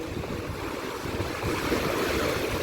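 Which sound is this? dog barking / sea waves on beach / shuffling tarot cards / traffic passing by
sea waves on beach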